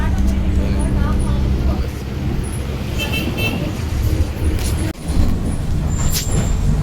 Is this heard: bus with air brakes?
yes